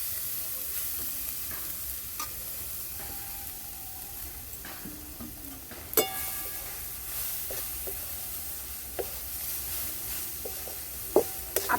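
Grated carrot cooking in hot ghee in a wok while halwa is being made, giving a steady close sizzle and frying hiss with occasional scraping stirs and light utensil clinks throughout.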